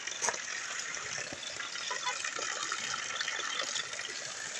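Water gushes steadily from a village tap fed by pipes, a continuous broadband splashing stream at moderate level with no talk, constant throughout.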